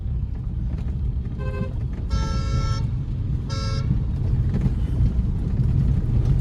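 Three short car horn honks, the second one longest, over a constant rumble of engine and road noise from inside a moving car during a driving lesson.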